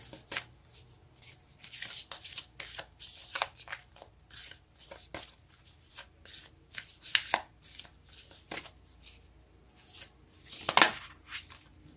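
Moonology oracle cards being shuffled and drawn by hand, a quick run of crisp papery riffles and slaps close to the mic, with a louder flurry near the end and no talking.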